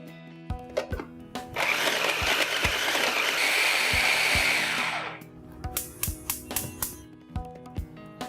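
Electric grinder pureeing cooled figs for a fasting sweet, a loud whirring run of about three and a half seconds, framed by sharp clicks and taps of the jar and lid before and after.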